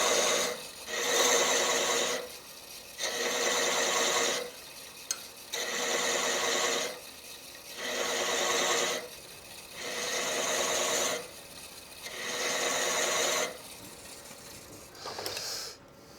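A hand scraper works across the wood of an acorn box in repeated strokes, about eight rhythmic rasping passes with short pauses between, close and clear with no talking.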